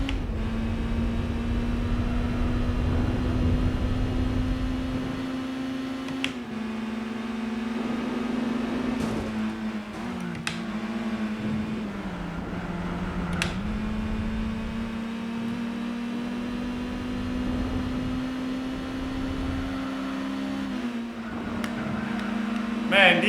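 Racing cars in Gran Turismo 4 hold a steady, droning engine whine that rises and dips slightly through gear changes and corners, with a talking voice over the engine note.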